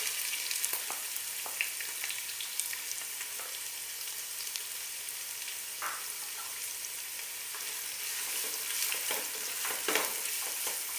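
Sliced onions fry in hot ghee in a pan for ghee rice, a steady close sizzle with scattered crackles and occasional stirring scrapes, no voices.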